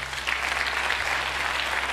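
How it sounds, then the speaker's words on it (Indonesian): An audience at a religious sermon in Indonesia applauds, a steady wash of clapping with no distinct individual claps, continuous and fairly even over a low hum. "Tepuk tangan."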